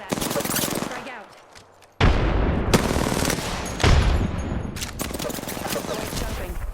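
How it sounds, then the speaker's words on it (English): Gunfire in the Apex Legends video game, loud sustained bursts of automatic fire with a brief lull after the first second before heavy firing resumes and continues to the end. "Getting shot at."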